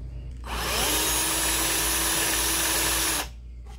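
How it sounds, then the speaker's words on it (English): A power-tool-driven diamond sharpener grinds chainsaw chain teeth in one sustained, loud high-pitched whir of about three seconds, starting and stopping abruptly, close up with no talk. "It's definitely sharpening these up."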